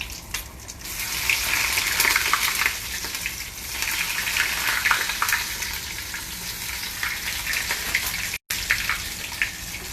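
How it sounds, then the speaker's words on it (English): Cheesy Italian bites fry in a heated pan with a steady, close, hissing sizzle that holds throughout, with no talking. "Just will fry it till they are golden brown."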